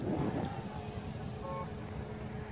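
Steady wind gusting outdoors over snowy ground, a broad continuous rush with microphone buffeting, alone and fairly loud throughout, with a faint motor whine partway through from a JJRC H345 drone.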